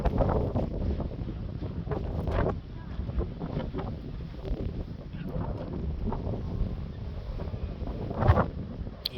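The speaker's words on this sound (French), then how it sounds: "Il y a du vent." Steady wind near the summit of Luofu Mountain in Guangdong, China buffets the microphone in low, rumbling gusts, broad and continuous with occasional stronger bursts.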